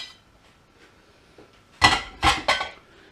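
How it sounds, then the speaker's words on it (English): Potatoes and onions tipped into a slow cooker for a meat curry: after a quiet stretch, three quick, close clattering thumps land in a row, with no talking. "Our potatoes and onions, that all goes in there."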